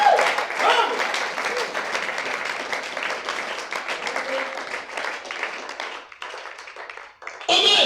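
A church congregation claps and applauds the Lord Jesus during a Sunday service, a dense continuous wash of hands with voices mixed in, easing off briefly near the end before a fresh loud burst.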